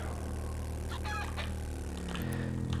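A chicken clucks a few times in the video game 7 Days to Die, faint calls over a steady, loud background rumble of game ambience.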